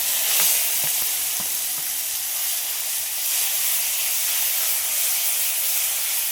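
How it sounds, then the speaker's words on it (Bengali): Grated onion and tomato fry in hot oil after cloves and cardamom, a loud continuous sizzling hiss with a few early spoon taps, close and steady throughout with no talking. "পেঁয়াজ আর টমেটোটা একটু হালকা করে ভেজে নিয়ে"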